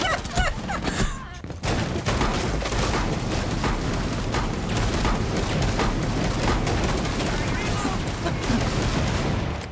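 Rapid gunfire bursts in the video game Rainbow Six Siege, dense crackling shots mixed with game sounds across the whole clip, loud and busy, under excited player talk.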